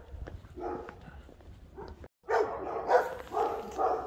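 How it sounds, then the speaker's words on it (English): Dogs bark outdoors in the morning, a string of moderately loud, repeated barks at middle distance, broken by a short pause before a denser run of barking. "and dogs barking, obviously"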